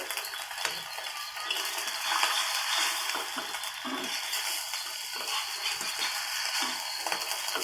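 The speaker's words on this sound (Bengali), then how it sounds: "লাল করে ভেজে নিলাম এটাকে" Mutton keema with egg fries in oil in a pan for paratha, a steady soft sizzle running throughout with frequent light scraping and stirring clicks of a utensil, no talking.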